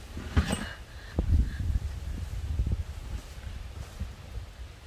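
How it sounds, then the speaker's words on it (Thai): Strong wind buffets the microphone with rough low-frequency rumbling gusts throughout, alongside faint distant sounds, outdoors near young elephants. "ลมแรงมากเลย"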